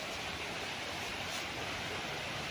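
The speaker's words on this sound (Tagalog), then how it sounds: "ang lakas ng tunog ng tubig ng lagaslas oh" A river runs behind a farm lot in Magdalena, and its water rushes with a steady, broad roar. The flow sounds constant and fairly close, with no voices over it.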